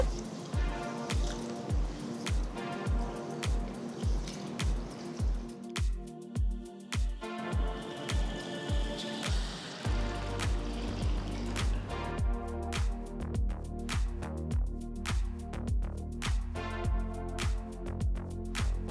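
Ragi and green gram being washed with water in a bowl, a continuous run of wet squishing and sloshing strokes in a steady rhythm, close and fairly loud, with no talking.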